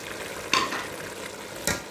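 Minced meat keema and peas frying for Balochi matar keema, a steady close sizzle broken by two sharp scraping stirs of a spoon against the pan.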